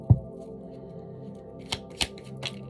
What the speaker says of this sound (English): I can't even keep shuffling